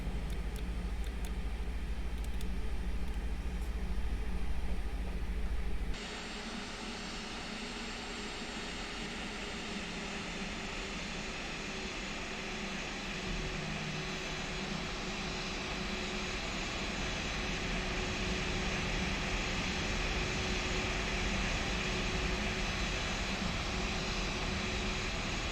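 Jet engines of an Airbus A320 spool up for takeoff in a flight simulator, a loud steady turbine roar that rises after a few seconds and then holds as a dense, sustained rumble and whine.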